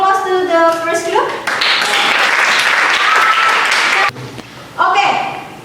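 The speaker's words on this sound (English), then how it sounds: "Give applause to the first group." Steady applause from a classroom audience lasting several seconds, with a voice speaking before it begins and briefly again near the end.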